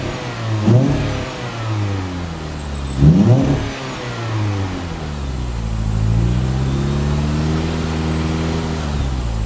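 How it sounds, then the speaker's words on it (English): Mini Cooper engine being revved during a coolant system fix: two sharp rev blips rise and fall close by, then a longer, smoother climb in revs that holds over the idle, with no voices. "we'll give it some revs and see if some exhaust will come out"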